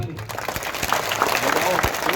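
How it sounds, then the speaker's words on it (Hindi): Audience applause breaks out at a crowded community rally and conference in Barmer, steady clapping with sharp individual claps standing out and crowd noise mixed in. "बजाओ आप ताली"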